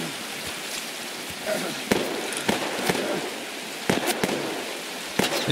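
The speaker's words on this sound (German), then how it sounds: "Ich werde beschossen." Gunshots crack at the player in Escape from Tarkov, sharp scattered reports, some in quick pairs, over a constant hissing, rain-like background.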